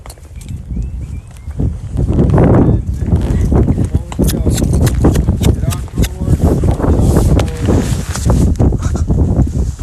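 Hooves of a green broke horse clop on the ground at a walking pace under loud, continuous talking, with wind and handling noise throughout.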